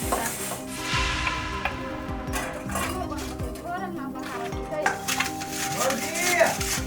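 Dishes and pots being washed in a home courtyard, with metallic clinks, knocks and scraping clatter scattered throughout, while people talk over it.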